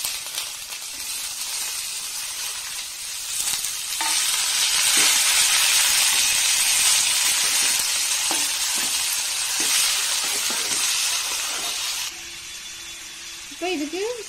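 Pieces of cut snake gourd drop into a pan of sautéed onions and set off a loud, steady frying sizzle that surges and holds for several seconds before settling quieter, with a brief voice near the end.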